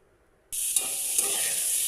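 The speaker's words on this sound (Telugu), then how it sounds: "లో ఫ్లేమ్లో 5 minutes ఫ్రై చేసుకోవాలి." Cluster beans frying over a low flame: after a short silence, a sudden steady sizzle starts and continues close and even, with a couple of faint clicks, no voices.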